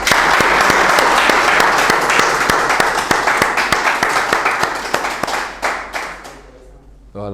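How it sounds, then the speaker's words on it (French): A room of taxi and VTC drivers at their monthly meeting claps together, loud and dense at first, then thinning into scattered individual claps that trail off to a stop. "on va applaudir pour le bon mois qu'on vient de passer ensemble"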